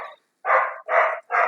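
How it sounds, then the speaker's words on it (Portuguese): A neighbour's dog barks loudly and close in three quick, broad barks separated by short silent gaps, with a trailing bark at the start. "Como o latido agora que começou aí."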